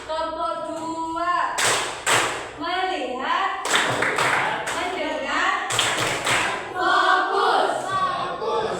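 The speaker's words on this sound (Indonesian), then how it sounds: "Tepuk satu, tepuk dua," Schoolchildren in a classroom clap along with a chanted focus routine, sharp bursts of clapping in counted rhythm between the teacher's spoken lines.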